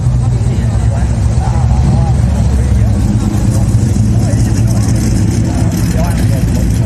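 Old Ford Falcon and Holden Torana cars rumble at an Australia Day car event on the Redlands Coast, a steady low engine drone throughout with a voice talking over it.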